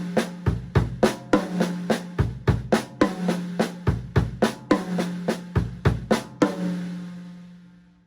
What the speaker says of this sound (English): It's basically a 6-stroke roll where the middle doubles in your right hand are replaced by your right foot.